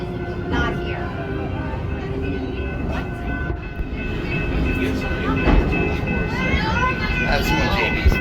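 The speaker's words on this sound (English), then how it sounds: "This train looks amazing. It's a proper steam train." A steam train ride at Busch Gardens Williamsburg rumbles along with a continuous rolling clatter and some squealing, and people talk over the steady noise.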